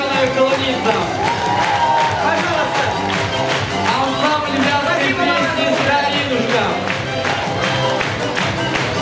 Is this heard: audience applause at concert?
yes